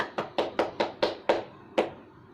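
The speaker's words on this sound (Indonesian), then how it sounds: "Mari kita berikan tepuk tangan." Eight distinct hand claps from a class praising a student group, sharp and fairly close with uneven spacing, tapering off with no talk over them.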